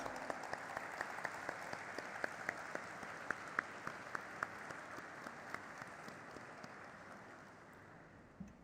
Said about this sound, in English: put our hands together in a thunderous round of applause